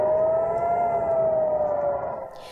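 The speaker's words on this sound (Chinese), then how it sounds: "以色列南部城市阿什克隆防空警报大响" An air raid siren wails over the southern Israeli city of Ashkelon during a rocket attack, one loud sustained tone holding steady then slowly falling away, alone without voices.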